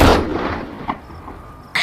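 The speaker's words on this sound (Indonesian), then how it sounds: "Lalu dia menembaki mereka semua." Gunfire in the 2016 horror film Don't Breathe: a loud opening blast that decays into a reverberant tail, a faint sharp report near the middle, and another loud shot at the very end.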